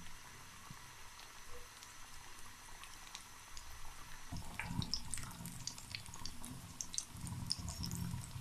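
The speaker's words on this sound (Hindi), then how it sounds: "इसको मीडियम आंच पे पका लेंगे।" Potato donuts cook in a pan over medium heat with a faint, quiet bubbling. It turns into a busier, crackling sizzle with scattered pops about halfway through.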